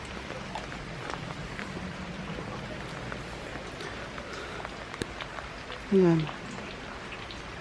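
Steady rain falls on a surface during a first motorcycle outing, a continuous hiss of drops with a brief voice near the end.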